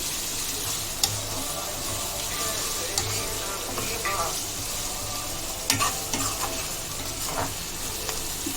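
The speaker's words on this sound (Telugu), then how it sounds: "పసుపు ఇంకా అల్లం వెల్లుల్లి పేస్ట్ పచ్చివాసన పోయే వరకు మంచిగా కలిపేసుకుందాం. ఒక 1 మినిట్ ఫ్రై చేసుకుందాం." Turmeric and ginger garlic paste fry in a pan with a soft continuous sizzle, broken by occasional spoon scrapes and clinks as the mixture is stirred, close but fairly quiet.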